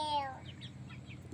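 A hen on a home yard gives a brief, quiet cluck followed by soft low murmuring, close by and faint.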